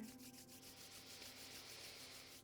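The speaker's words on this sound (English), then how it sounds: "begin rubbing those palms together" Palms rubbed briskly together during a yoga session, a close, soft rhythmic swishing friction that repeats in quick even strokes for a couple of seconds, quiet and without speech.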